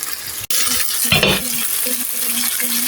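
Chicken livers sauté with spices in a pan, a close, steady sizzle broken by a sharp metallic clack and brief scraping of the stirring utensil.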